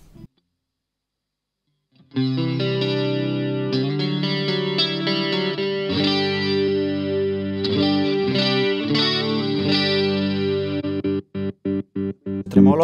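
Electric guitar through a Blackstar amp with a modulation effect, a sustained, shimmering chorus-like chord strummed steadily for several seconds, then broken into short choppy stabs at the end.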